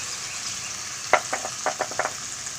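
Ground spices being fried in hot oil for a prawn kofta curry, a steady soft hiss under a few short sharp crackles and bursts of sizzle clustered near the end.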